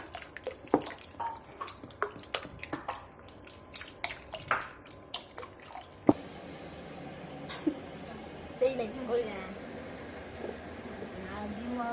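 Cold water is poured onto cooked rice, starting with scattered drips and splashes and then settling into a steady rushing pour for the second half, close and moderately loud, with a person speaking in the background.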